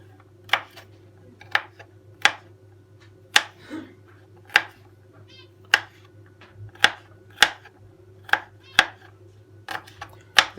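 A knife chops garlic on a cutting board in about a dozen sharp, evenly spaced knocks, close and clear over a faint hum.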